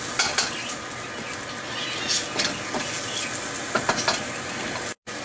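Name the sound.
peas, carrots and corn sizzling in a pan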